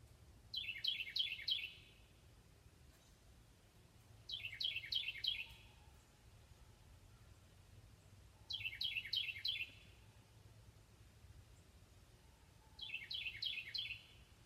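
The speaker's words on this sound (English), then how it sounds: "It's pretty bird, isn't it?" A bird sings outdoors in four evenly spaced bursts of quick, high trilling notes, each lasting about a second, over quiet background hiss.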